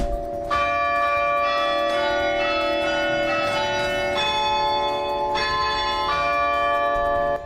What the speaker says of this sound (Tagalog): Tila musika sa langit ang hatid ng Carillon Bell na matatagpuan sa simbahan ng St. Clement's Church Redemptorist sa La Paz, Iloilo.